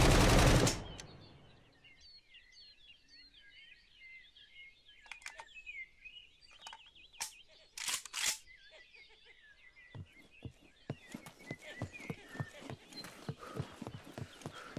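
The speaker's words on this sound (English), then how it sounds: "it'll help you make more precise consecutive shots." Rifle fire in the survival video game SCUM: a loud opening shot, then scattered sharp reports over birdsong, building to a steady run of rapid consecutive shots near the end.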